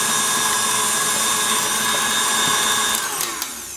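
A stand mixer whips marshmallow mixture with a whisk attachment, a loud, steady high motor whine with no talk that shifts and winds down near the end as the machine is switched off.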